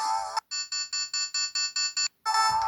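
Samsung GT-E1272 ringtone played on a Newmind F15 flip phone: a loud, close electronic melody with a rapid run of evenly spaced repeating beeps between brighter phrases, heard alone without talk.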